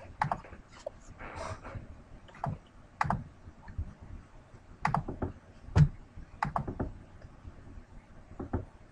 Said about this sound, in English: Somebody's typing away.